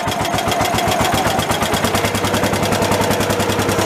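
Allis Chalmers 716H garden tractor engine with an updraft carburetor, running on choke at idle after its first start of the season: a steady, loud, rapid putter with a fast, even firing rhythm throughout.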